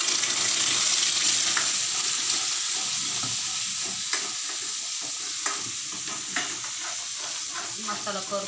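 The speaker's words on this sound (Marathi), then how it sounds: "मसाला परतून देते आता मी करून, काळा होईपर्यंत अजून भाज देऊन मस्त तेला" Garam masala sizzles in hot oil while being sautéed for a Marathwada-style chicken curry. A steady, bright frying hiss runs throughout, with occasional spatula scrapes and clicks nearby.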